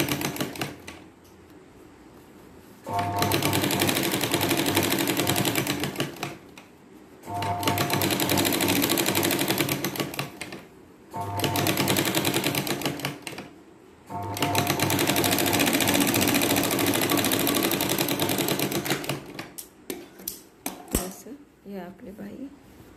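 A sewing machine stitches a lined katori blouse in three long bursts of fast, even mechanical chatter with short quiet gaps between them, ending in a few brief stop-start stitches.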